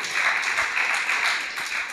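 Congregation clapping together at an all-night Christian prayer meeting: steady, dense, continuous applause from a crowd, fairly loud and sustained throughout with no pauses.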